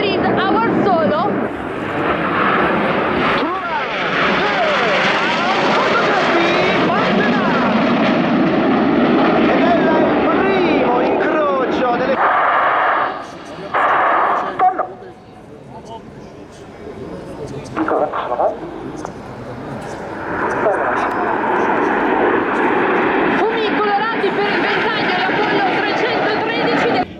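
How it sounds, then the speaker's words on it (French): Frecce Tricolori MB-339 jets flying an aerobatic display at an air show, a loud, continuous, sweeping jet roar that surges, briefly drops away and builds again, with a commentator's voice running over it throughout. "C'est la première séparation des flèches tricolores, 4 avions à droite, 5 avions à gauche."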